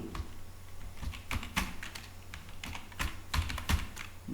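Fingers tap out an email address on a computer keyboard in quick, irregular bursts of crisp clicks, close and clear, with short pauses between keystrokes and no voices.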